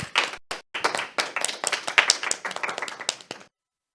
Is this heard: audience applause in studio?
yes